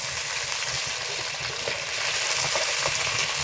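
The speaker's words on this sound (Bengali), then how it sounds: "চিকেন ভাজা আমার হয়ে গেছে।" Chicken pieces frying in hot oil in a home kitchen, giving a steady, loud, dense sizzle with small crackles and pops throughout, close by and with no talking.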